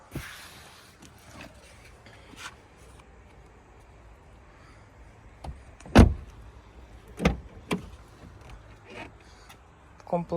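Electric power windows of a Volkswagen Golf 1.6 MPI run in short bursts inside the car, with sharp clunks and thumps as they stop, one loud knock standing out, over a quiet cabin background.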